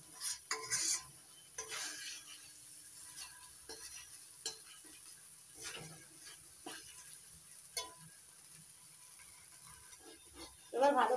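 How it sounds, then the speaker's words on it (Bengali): Doi katla, a Bengali yogurt fish curry, is stirred in a pan, with quiet scrapes and clinks of a spoon against metal over a soft sizzle, in several short bursts. "এবার ভালো করে মিশিয়ে নিচ্ছি।"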